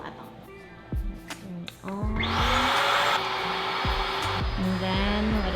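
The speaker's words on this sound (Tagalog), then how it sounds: "Ito ang choice of vacuum natin today. This is the Dirma BY200." A Dirma BY200 vacuum cleaner starts after a few clicks and handling knocks, then runs with a loud, steady high-pitched whine to the end.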